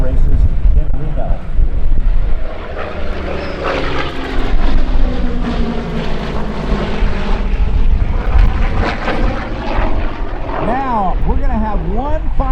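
An F4U Corsair warbird makes an aerobatic photo pass at the Thunder Over Michigan air show, a loud propeller engine roar that rises and sweeps past with shifting pitch and wind buffeting.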